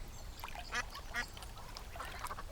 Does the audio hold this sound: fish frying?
no